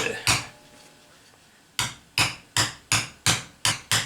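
A body hammer strikes solid steel on a handmade anvil built from scrap, nine sharp ringing blows: two early, a pause, then seven in a steady quick rhythm, close and loud with no talking.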